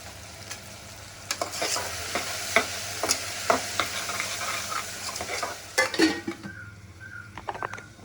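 Tomato masala for prawn biryani, with salt added so the tomato softens fast, fries in a pan with a steady sizzle and repeated spoon scrapes and knocks against the metal, louder near the end; no voices.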